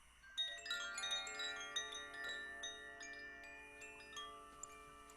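Soft Koshi chime bells ring with layered, sustained metallic tones, gentle tinkling strikes overlapping and fading slowly.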